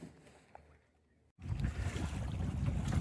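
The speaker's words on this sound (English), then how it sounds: "the keel is back down, fully down, rudder's down, motoring away" A small sailboat motors away from a shipwreck: quiet wind at first, then a steady low engine rumble with water and wind noise starts abruptly and continues close by.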